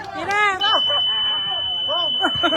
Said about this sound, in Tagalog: Buzzer na lang maririnig.